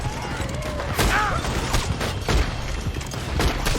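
Gunfire during a wagon chase in Red Dead Redemption 2, a rapid fusillade of shots and booms, loud and close, mixed with shouting voices and rumbling motion.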